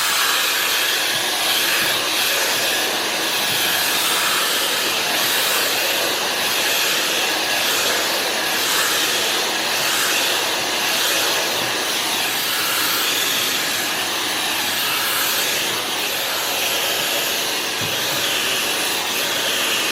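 A Dyson hair styler blows air steadily while curling hair, a loud, even rushing hiss close to the microphone that holds without pause for the whole stretch, with no voices over it.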